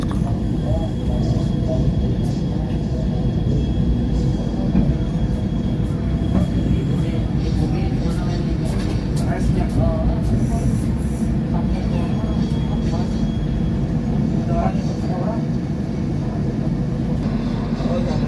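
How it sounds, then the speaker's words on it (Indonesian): The Pangrango passenger train pulling out of Cigombong station in Bogor Regency: a steady, loud rumble of wheels and engine with faint clatter, continuous throughout, with no voices over it. "kereta api Pangrango bergerak menuju stasiun berikutnya, yaitu stasiun Maseng"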